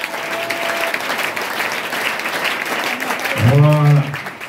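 A church congregation at a Sunday worship service claps in acclaim, a steady dense patter of applause throughout with a louder swell near the end, mixed with a voice and a brief sung or shouted tone.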